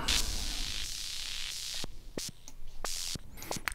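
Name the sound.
synth sound with white noise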